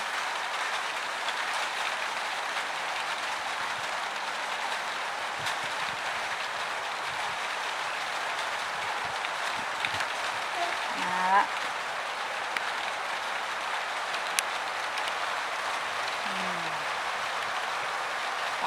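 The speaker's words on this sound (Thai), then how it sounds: "เสียงฝนนะคะ" Rain pours steadily outside a house front, a dense, even hiss of falling water that holds for the whole stretch, with a faint voice and a few brief sounds passing beneath it.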